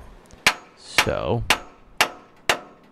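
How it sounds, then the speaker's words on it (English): A hammer strikes a truck's rear shock absorber being forced into its lower mounting bracket, with sharp metallic blows at a steady half-second rhythm and a brief ringing squeal between them. One short spoken word is heard. "I tried pounding it a little bit with a hammer"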